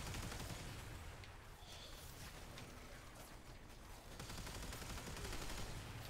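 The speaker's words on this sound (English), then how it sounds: "There's stuff going on and there are explosions" Dense, continuous bursts of gunfire and explosions from the video game Warframe crackle and rumble without pause, a loud, busy battle din with no talk.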